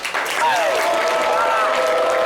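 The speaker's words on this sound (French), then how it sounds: "Applaudissez, voilà." Studio audience applauding on a live talk show, a dense, steady wash of clapping that rises quickly and holds, with voices talking over it.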